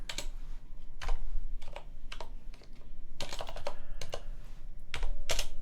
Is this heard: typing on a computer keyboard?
yes